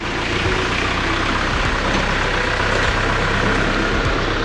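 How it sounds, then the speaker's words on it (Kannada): A tractor engine runs steadily on the way to a paddy field for ploughing, a loud, continuous low rumble close by with no talking. "ಈ ಟ್ರ್ಯಾಕ್ಟರ್ ಮೂಲಕ ಗದ್ದೆಗೆ ಹೋಗ್ತಾ ಇರುವಂಥದ್ದು ಉಳುಮೆ ಮಾಡಲಿಕ್ಕೆ"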